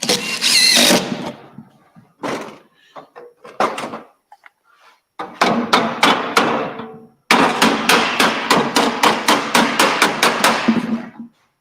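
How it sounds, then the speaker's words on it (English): Screws are driven into the corners of a sheet during seam sweeping. Power-driver bursts come close and loud, each with rapid rhythmic clicking, separated by short pauses and some handling knocks. "Get these screws in those corners."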